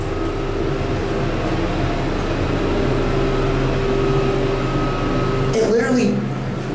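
A Montgomery Kone hydraulic elevator hums steadily with a low drone and faint tonal whine as it descends, ending in a brief rough clunk near the close; a voice talks over it.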